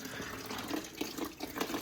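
Coolant drains out of a BMW E30 radiator in a continuous faint trickling, liquid splashing softly and steadily with small bubbly surges, close by and with no voices.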